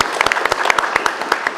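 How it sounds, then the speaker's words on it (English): A room full of people applauds at a city commission workshop meeting, a short burst of dense, close hand clapping. "A round of applause."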